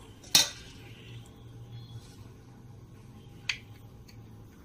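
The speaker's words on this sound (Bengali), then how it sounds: "ডিমটাকে আমরা স্লাইড করে কেটে নিলাম।" A knife slices through a boiled egg on a board, giving two sharp, isolated clicks of the blade striking the surface, well separated and fairly close, with quiet room tone in between. No one speaks.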